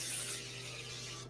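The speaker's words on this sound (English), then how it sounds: "we need to spray a little bit." Cooking spray hisses from an aerosol can into a muffin tin, a single short close burst that fades after a fraction of a second, with no talking.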